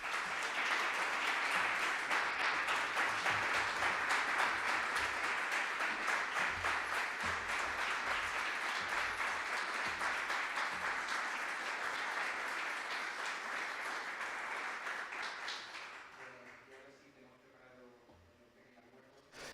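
Audience applause at a talk event about cancer, a long run of dense, even clapping that holds steady for about fifteen seconds, then thins out and fades as a voice begins speaking near the end.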